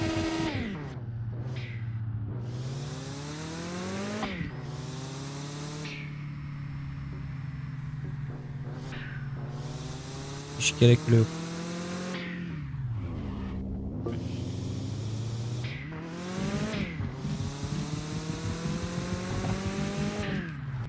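A race car in the Mon Bazou game revs loudly and climbs through the gears again and again, each rising whine dropping at a shift, with a short knocking burst midway and brief speech once.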